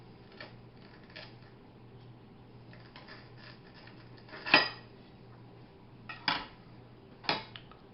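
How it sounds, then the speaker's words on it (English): A metal spatula scrapes and taps against a pan while pressing down and cutting a grilled cheese sandwich with sautéed mushrooms, giving three sharp clinks between quiet stretches over a low steady hum. "I'm just going to use a spatula and push down, split it."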